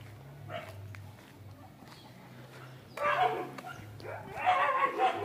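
Dogs barking in a street, a few loud bursts of barks and yips from nearby, with some quieter barking earlier and a low steady hum underneath.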